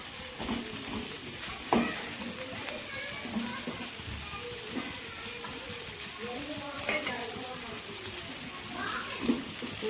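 Food frying in hot oil in a home kitchen, a steady close sizzle with occasional spoon scrapes and clinks from stirring, while someone talks over it.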